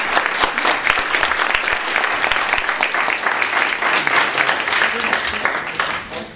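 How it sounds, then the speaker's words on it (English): Loud, dense audience applause at a gathering welcoming a speaker in Eugene, sustained clapping with crowd noise filling the whole stretch and a few voices mixed in. "So a big round of applause for Celia Brown from New York City."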